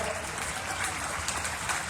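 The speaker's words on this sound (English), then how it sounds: "How about a round of applause, Mr. Ray Polachek" Outdoor audience applause at a heavyweight-class pulling contest at the Florida State Fair, a continuous wash of clapping filling the short stretch with faint voices mixed in.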